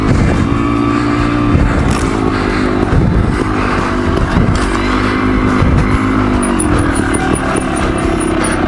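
A motorcycle engine drones loud and close while riding, a steady rumbling roar with slight shifts in revving, and wind noise throughout.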